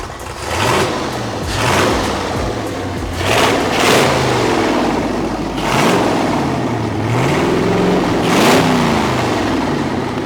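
A 4-71 supercharged flathead V8 on a test run, revving to full throttle in repeated loud rising and falling bursts with a deep rumbling idle between them, close and dominant with no speech.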